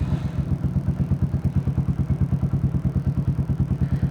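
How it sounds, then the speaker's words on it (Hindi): A Yamaha motorcycle idles close by, its exhaust giving a steady, rapid thumping pulse at moderate volume with no revving and no voices. "मुझे नहीं लगता पहले आपने इस बाइक पे इस एग्जॉस्ट की आवाज़ सुनी है।"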